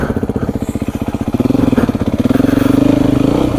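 A Beta dirt motorcycle rides off-road, its engine note pulsing steadily and close. The revs climb and hold loud toward the end, with no talk over it.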